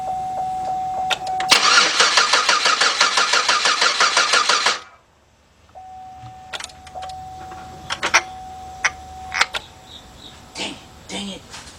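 A Chevy Equinox engine cranks repeatedly without catching, a loud rapid rhythmic churn lasting a few seconds, then stops; afterward faint clicks, a steady chime and scattered knocks follow with no engine running.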